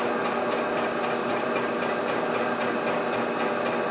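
A steady mechanical whir of a boring bar cutting a Kawasaki F7 175 motorcycle cylinder, with a fast, regular pulsing chatter from an interrupted cut across the ports, running continuously at moderate level.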